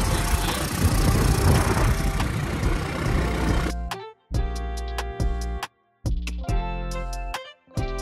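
A motorcycle engine drones loudly while riding with broad wind rush, then the roar breaks into a choppy sequence of engine bursts and short gaps of quiet.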